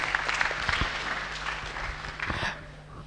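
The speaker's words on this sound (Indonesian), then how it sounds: "Tepuk tangan dong" An audience applauds at a career talk, steady mid-level clapping spread across the room that runs throughout and tapers slightly at the end.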